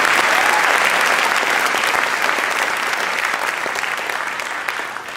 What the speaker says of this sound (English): We give them a round of applause for these graduates today.